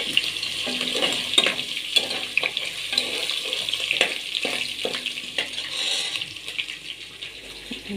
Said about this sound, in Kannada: ಈಗ ಶುಂಠಿ ಬೆಳ್ಳುಳ್ಳಿ ಪೇಸ್ಟ್ ಅಥವಾ ನಾನು ಮನೆಯಲ್ಲೇ ಶುಂಠಿ ಬೆಳ್ಳುಳ್ಳಿನ ಜಜ್ಜಿಕೊಂಡಿದ್ದೀನಿ ಅದನ್ನು ಹಾಕ್ತಾ